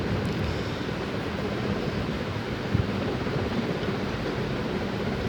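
Spinach frying over a high flame for palak gosht, a steady broad hiss and sizzle that stays loud and even throughout, with one brief louder crackle partway through.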